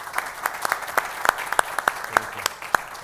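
Sparse applause from a conference audience at a panel session, with distinct individual claps ringing out at an uneven rhythm over a faint room background, fairly quiet and distant.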